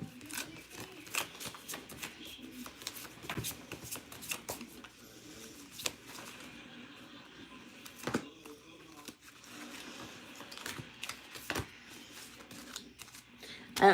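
Angel cards shuffled for a tarot reading, a steady run of soft papery riffles and flicks, close and moderately quiet, with brief louder snaps scattered throughout and no talking.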